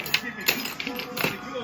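Keys jangle and clink in a few quick bursts as they are rummaged for, heard close and over a low background murmur.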